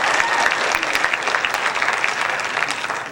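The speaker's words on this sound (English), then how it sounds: "Please give them all another round of applause," A concert audience gives sustained, dense applause for a high school jazz ensemble. The clapping holds a steady, full level with no talk over it.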